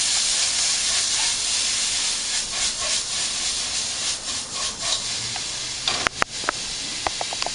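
Frozen mixed vegetables with bacon and sausage being stirred in a hot pan, a loud hissing steam sizzle with rubbing spatula strokes, ending in a few sharp utensil clinks, no talking.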